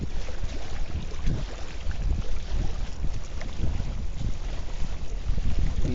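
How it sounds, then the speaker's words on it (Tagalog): Strong wind buffets the microphone at a low-water fishing spot, a steady rough roar with gusty surges throughout and no voices. "Ang lakas ng hangin guys"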